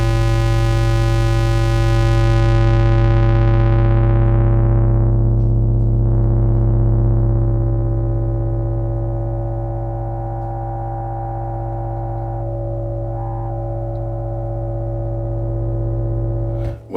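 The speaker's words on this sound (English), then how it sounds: "Reason number 4, the filter." A Moog Grandmother synthesizer holds a sustained buzzy tone as its filter sweeps closed, the bright upper harmonics fading away to a dark, mellow drone, with brief filter wobbles later on.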